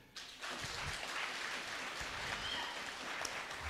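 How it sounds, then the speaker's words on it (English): Audience at a postal corporation retirement benefits event clapping for a manager, a sudden onset of dense, even applause that holds steadily throughout. "Let us give Mr. Tonui a clap."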